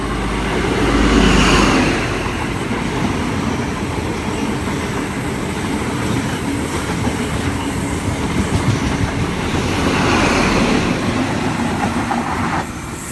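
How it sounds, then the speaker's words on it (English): An XPT passenger train bound for Brisbane passes through Wondabyne Station in New South Wales, a loud, close, continuous rumble with steady clickety-clack wheel beats over rail joints and a brief swell near the start and again toward the end. "Oh, the XPT to Brisbane."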